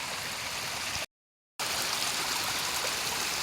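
Fast water gushing under heavy pressure through a village canal, a steady broadband rush close by, briefly cut to silence for half a second before resuming just as strong.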